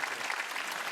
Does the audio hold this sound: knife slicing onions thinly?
no